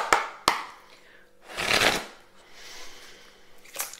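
Oracle cards being shuffled by hand, two quick flicks followed by a longer riffling rush and a final brisk shuffle, close and fairly quiet, with no talking.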